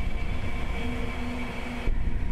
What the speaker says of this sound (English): No, it's another Lego train.